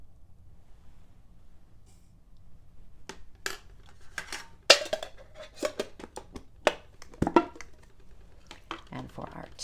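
A metal teaspoon scoops loose leaf tea into a mug, with a few scattered clinks and scrapes that are close and crisp but sparse, over a quiet background.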